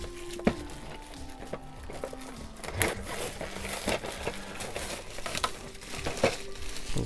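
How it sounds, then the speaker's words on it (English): Cellophane wrap crinkles and crackles as it is peeled off a model kit box, with irregular close crumpling bursts and sharp tearing snaps throughout. "Take off the cellophane wrap."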